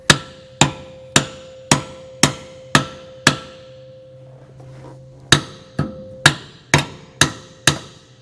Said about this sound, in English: Take our hammer here.